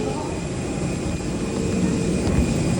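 A steady, loud roar of airplane engines fills the cabin, a constant broadband hum with no breaks.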